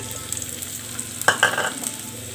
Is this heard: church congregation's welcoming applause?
no